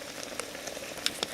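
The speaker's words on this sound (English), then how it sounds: "You can hear it simmering away here." Apple cobbler filling simmering in a pot on the stove gives soft, close bubbling with scattered small pops and ticks over a quiet hiss, brief and faint, with no speech.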